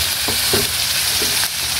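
Sayote and ground meat sautéing in a pan, giving a steady close sizzle with a few soft clinks of a utensil stirring.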